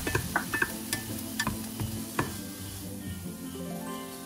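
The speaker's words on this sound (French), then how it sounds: "Et donc ensuite on ajoute nos petites tomates et on va faire griller déjà" Small tomatoes sizzling in a pan as a utensil stirs them, with sharp scraping knocks against the pan in the first half, then a softer continuous fry settling in, close and clear with no talking.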